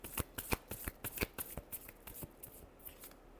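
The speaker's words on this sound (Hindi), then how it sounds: "last shuffle" Tarot cards shuffled by hand in a run of crisp, quick riffling snaps and slaps, close and fairly quiet, with no talking.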